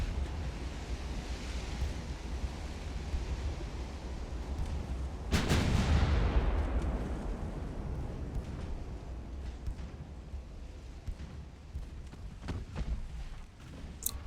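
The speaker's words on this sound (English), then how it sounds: "Cloudy weather, morning, smooth waves, calm wind." Ocean waves and wind in the naval game Ultimate Admiral: Dreadnoughts, a steady rushing surf bed with a distant boom partway through, in cloudy morning weather with smooth seas.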